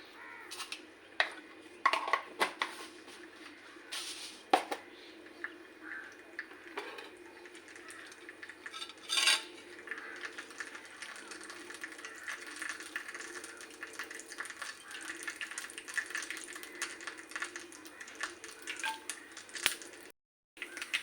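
Mustard seeds crackle in hot oil for a sambar, giving scattered sharp pops and clicks over a soft steady hiss. The sound is faint and close, with no talking.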